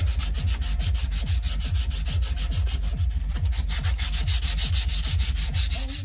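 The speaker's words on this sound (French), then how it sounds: "je ponce là où c'est cassé, ça aidera mon neveu pour la soudure" Steady rhythmic sanding strokes scrape back and forth, loud and close, over the broken section of a Peugeot 103 moped's metal exhaust pipe, with no voices.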